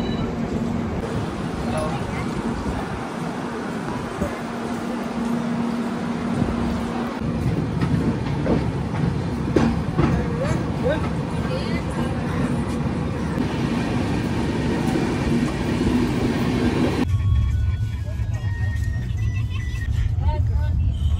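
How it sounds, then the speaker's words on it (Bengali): Himgiri Express running after departure, a loud continuous rumble of wheels and carriages with rhythmic rail clatter heard from inside the train, with voices in the background. "মাত্র 5 মিনিটের হল্ট আর ট্রেন ছেড়ে দিয়েছে এখান থেকে"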